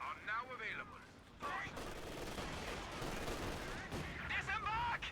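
A 120mm gun firing in a Company of Heroes 2 battle: dense, rumbling bursts of gunfire and explosions fill the middle of the clip, with a voice briefly heard at the start and the end.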